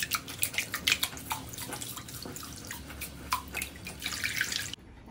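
Water is poured off washed grains, producing a run of irregular splashes and drips close by that swell into a fuller pour before stopping abruptly, with no talking.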